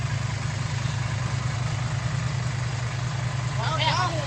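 A steady, low engine idles close by throughout, with a brief voice calling out near the end.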